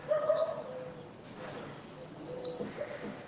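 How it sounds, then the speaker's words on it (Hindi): Outdoor birdsong with cooing pigeon- or dove-like calls and a few faint chirps, distant and soft over steady background ambience. "चहचहाती हुई चिड़ियाएं"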